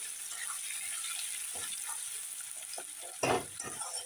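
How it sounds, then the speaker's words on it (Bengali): A soft, steady sizzle of potatoes frying in oil with salt and turmeric runs throughout, broken by a few scraping stirs and one louder clatter near the end. "আলুগুলো এখন ভেজে নিচ্ছি।"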